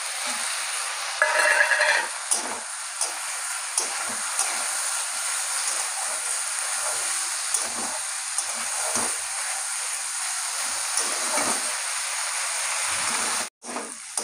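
Potatoes and onions fry in a pan with green chilies added, giving a steady, dense hiss of sizzling oil throughout, with faint scrapes and clicks and a brief drop near the end.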